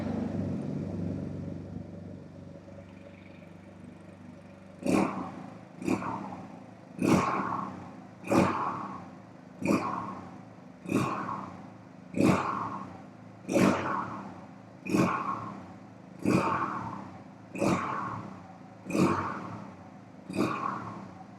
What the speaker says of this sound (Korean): 아크라포빅 머플러의 배기 사운드 한번 들어보고요